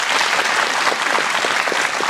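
An audience claps in dense, sustained applause that stays steady and fairly loud from start to finish, with no voices rising above it.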